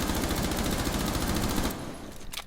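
Rapid automatic gunfire from a recoil-free weapon in Rainbow Six Siege, a steady stream of close shots for nearly two seconds, then quieter trailing game sounds with no voice.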